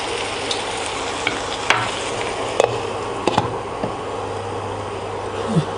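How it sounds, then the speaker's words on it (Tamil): Pepper chicken cooking over a medium flame is stirred, giving a steady sizzle with a few sharp clinks and scrapes of a utensil against the pan, close by and with no one speaking. "நான் இடையிடையே அதை நல்லா கிளறி விட்டேன்."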